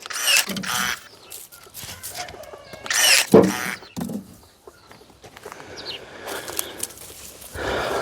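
A cordless garden tool cuts through branches in several loud, harsh bursts separated by quieter gaps with light rustling and outdoor background.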